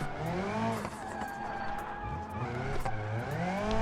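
A drift car slides through corners in a racing video game, its engine revving and falling as tires squeal in long, wavering streaks, loud and continuous.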